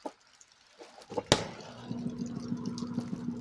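A cheap portable washing machine's impeller, adjusted for agitator weakness, starts after a sharp click and settles into a low, steady, slightly pulsing motor hum, close and quiet.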